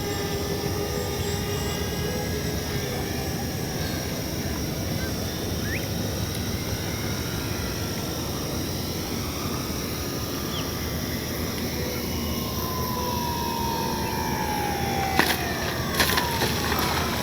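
Avios Albatros V2 radio-controlled seaplane buzzing steadily overhead as it comes in to land on water, a constant whining motor drone at moderate distance with a few brief splashy bursts near the end.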